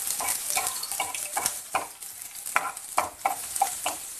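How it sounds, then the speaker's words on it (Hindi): Chopped onions sizzle steadily in hot oil while a spoon stirs and scrapes the pan, giving repeated sharp clatters over the continuous frying hiss, close and clear with no talking. "अब इसमें चॉप की हुई प्याज डाल देंगे।"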